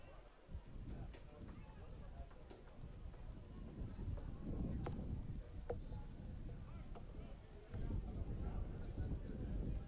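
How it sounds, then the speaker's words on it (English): Wind blows across an outdoor university campus pitch during a rugby match, a steady low rumble buffeting the microphone throughout, with a commentator's voice and faint crowd activity over it. "Wind starting to pick up once again here on campus."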